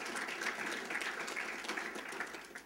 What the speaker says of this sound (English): Round of applause for all those people